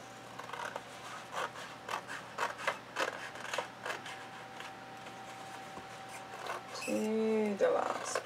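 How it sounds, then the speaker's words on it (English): Squeaky scissors snip through folded paper in a run of short, repeated rasping cuts, fairly close and quiet, followed by a brief spoken voice at the end. "scissors are getting squeaky"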